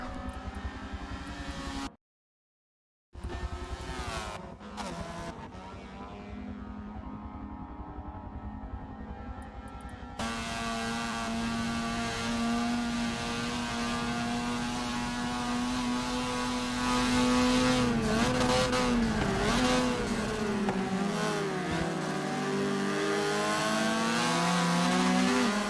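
An on-board race car lapping a Forza spec racing series circuit in lap eight, its engine droning loudly and steadily with pitch swells on throttle and shifts, after a brief dropout near the start.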